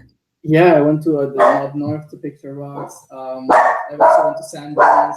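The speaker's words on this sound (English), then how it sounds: "Sorry, that's my dog." A pet dog barks a few times in the background of a home setting while a person keeps talking over it.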